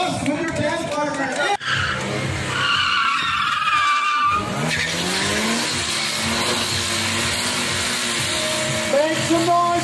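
A Subaru WRX skids through a stunt driving show in Davao with long, loud tire squeals and engine revs that rise and fall over several seconds. Voices and crowd noise sit underneath.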